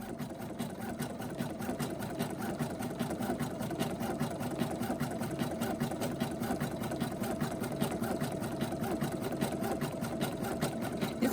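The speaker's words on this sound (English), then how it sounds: "what it's going to do now is just do the stitching, the decorative stitching around to hold both pieces together." NQ1700e embroidery machine sewing decorative stitching around a keyfob: a fast, steady mechanical needle chatter that repeats evenly, heard close up and continuous, with no talking.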